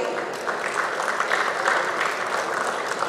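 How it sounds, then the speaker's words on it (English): Steady applause from a conference audience at an ear, nose and throat annual meeting, dense continuous clapping filling the room without a break, moderately loud. "you'll have to keep clapping on loop"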